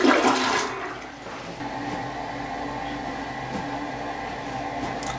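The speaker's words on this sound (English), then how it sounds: "I'm just gonna flush it" A household toilet flushing close by, a loud initial rush of water that settles into a steady swirling drain and refill running on to the end.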